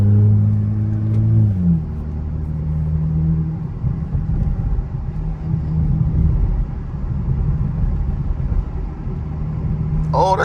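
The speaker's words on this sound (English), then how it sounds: "Oh, that's a Lamborghini." An orange Lamborghini's engine rumbles loudly nearby in city traffic, its low drone shifting as the car passes, with a faint voice near the end.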